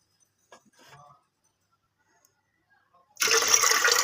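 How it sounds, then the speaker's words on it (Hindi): Water pours into a cooking pot for kadhi pakoda, a short burst of splashing and rushing liquid at close range, preceded by a few quiet clinks and brief low sounds. "तो इसके बराबर ही हम इसमें डबल पानी ऐड करेंगे"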